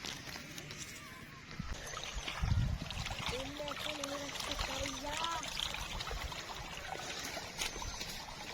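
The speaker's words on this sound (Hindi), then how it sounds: "ये गंदम में जो पानी खड़ा था उसे बाहर निकाल रहे हैं" Standing water drains out of a wheat field in a steady, close, continuous trickling and gurgling flow, with faint voices murmuring in the middle stretch.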